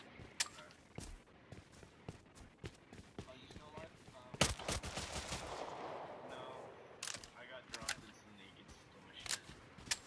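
Gunfire in the video game Rust comes as sharp, scattered shots and short rapid bursts, fairly quiet overall, with a voice talking between the volleys.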